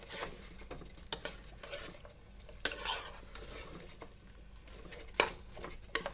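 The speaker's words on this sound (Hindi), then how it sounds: "आलू को अच्छी तरह से मिक्स करेंगे।" Potatoes being mixed in a pan, quiet frying sizzle under sharp metal spoon clinks and scrapes at irregular intervals, close and without speech.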